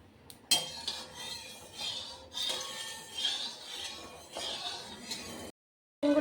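Battered pieces of ginger garlic chicken go into hot oil in a kadai, a continuous hiss of frying broken by metal utensil clinks and scrapes against the pan.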